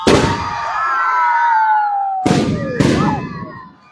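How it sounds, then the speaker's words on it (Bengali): Loud firework blasts at a futsal tournament opening ceremony, one big bang at the start with a long whistling tail, then two more close bursts near the end, with crowd noise underneath. "আতশবাজি চলছে"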